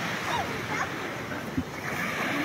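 Ocean waves wash steadily onto a beach with a broad, continuous surf roar and some wind, while faint voices carry in the background.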